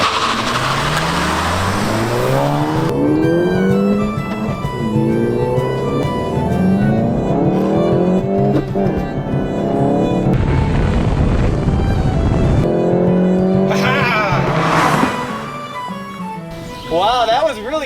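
A Volkswagen Golf GTI and a Ford Fiesta ST launch side by side in a drag race, the Fiesta spinning its wheels; loud engines rev and accelerate through rising gear pulls with tire noise, continuous and close, with voices over the top.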